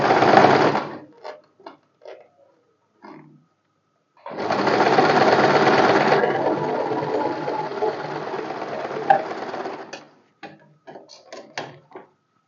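A sewing machine stitches a padded princess-cut blouse in two bursts, a short whirring run then a longer steady one, separated and followed by quick clicks and handling knocks, close and clear without talk.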